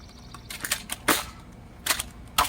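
A Nerf Split Strike blaster fires foam darts in quick bursts, a cluster of sharp snapping shots followed by two more separate pops, loud and close with no talk.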